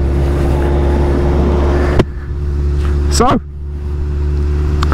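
A 2021 Suzuki Hayabusa motorcycle's engine drones steadily while riding, with brief dips where gears change around the two- and three-second marks, the ride noise loud and continuous, and a voice speaks briefly.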